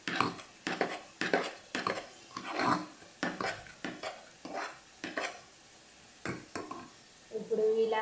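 Jaggery and rice mixture being stirred in a pan, a run of repeated scraping strokes in an uneven rhythm, close and moderately loud, with a soft sizzle under the final moments.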